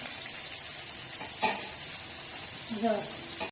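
Food fries in a pan in a village kitchen, giving a faint, steady hiss with a couple of brief louder bursts, while a voice speaks quietly over it.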